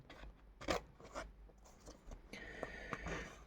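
Scissors or a blade cut out a sticker close by in a quiet room, producing faint, irregular snips, scrapes and rustles of paper, with a soft continuous rubbing near the end.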